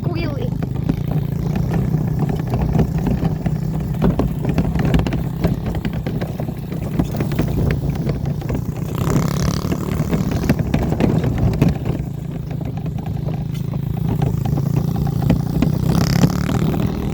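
A dirt bike engine revving and running steadily throughout on a 4-acre property, fairly loud with fluctuating throttle, under occasional talk.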